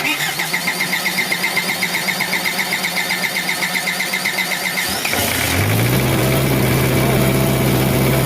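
A Hitachi EX60 backhoe's diesel engine cranking with a steady rhythmic churn, then the sound shifts to a continuous drone as the engine turns over without catching, loud and close.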